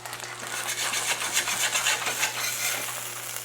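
Cheesy sausage potato patties frying on a flat griddle, a steady close sizzle with rhythmic scraping and rubbing from a spatula, no talking.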